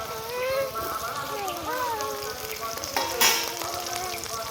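Dried red and green chillies frying in a hot pan give a steady close-up sizzle, with a brief louder burst of spitting oil near the end and faint voices underneath.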